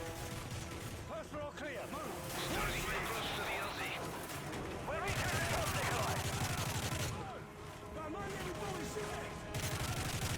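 Gunfire in the video game Call of Duty: Modern Warfare 3, with bursts of automatic weapon fire and blasts layered over game ambience and sustained noise throughout, fairly loud and continuous.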